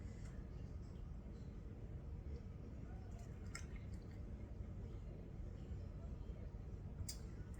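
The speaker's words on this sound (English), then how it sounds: "I am filling the water up pretty good, past the 1-inch headspace mark" Water poured into a packed jar of pineapple rings for canning, a soft continuous filling gurgle with faint drips, steady and low throughout.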